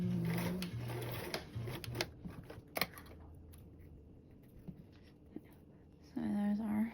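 A home sewing machine stitches an L-shaped seam on a convertible duffle bag, its motor whirring in short runs broken by pauses and small clicks, then starting up again near the end.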